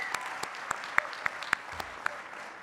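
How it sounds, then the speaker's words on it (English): A handful of sharp, separate handclaps ring out at an executive MBA class recognition ceremony, scattered and fairly quiet, with soft room tone between them. "Give yourselves a round of applause."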